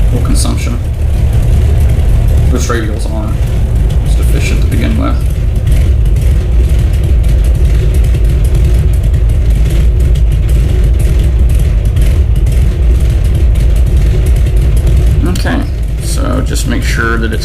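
Radial engine of an Avia BH-5 aircraft running rough and misfiring at idle, a loud, continuous low rumble with uneven pulsing, heard close with a voice talking over it.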